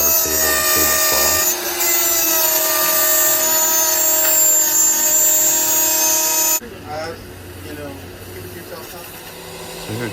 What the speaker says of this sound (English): I'm cutting all the vertical slots on this